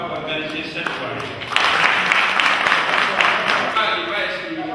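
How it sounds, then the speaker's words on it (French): Audience applause at a Guinean presidential election campaign evening in Morocco, a steady wash of clapping that swells after a brief lead-in and carries on under crowd noise and voices. "applaudissez M. Sidibé pour avoir organisé cette soirée"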